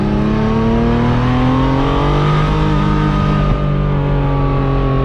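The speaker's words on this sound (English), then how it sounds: "because of that 2B exhaust, it's shooting flames every time you hear that backfire" Ferrari F50 V12 revving hard and steadily close up, a loud sustained engine roar with rising harmonics and a brief crackle of exhaust backfire near the middle, no voices.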